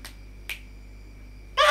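Two crisp finger snaps ring out alone in a quiet room during a school monologue performance, spaced about half a second apart, followed by a louder, harsher burst of noise at the end.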